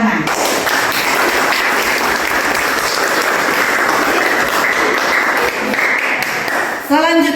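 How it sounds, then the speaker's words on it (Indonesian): Sustained applause from a classroom of students, steady and loud for about seven seconds before tapering off near the end. "Oke, saya berikan tepuk tangan."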